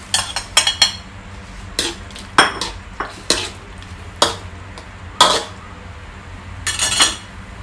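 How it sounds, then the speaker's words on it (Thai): Metal utensils clatter against a pan while sliced Thai pork sausage cooks for stir-fried instant noodles, with sharp scraping and clinking strokes at irregular intervals, close and fairly loud, with no voices. "ใส่หมูยอลงไปก่อนค่ะ ต้มให้สุกอีกรอบหนึ่งค่ะ"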